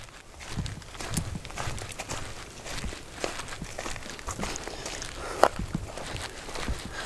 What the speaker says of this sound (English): pine needles on the path that make a scrunching sound